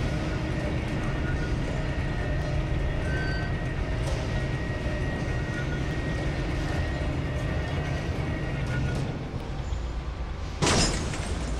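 A military train in the Metro 2033 game, heard as a continuous loud rail rumble with faint clanks, ending in a sharp crash or burst.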